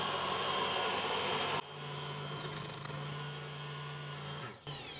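Electric mixer whisking macaron mixture, first at a high whir, then after a drop settling into a steady motor hum with a tonal drone at speed 8, cutting briefly near the end.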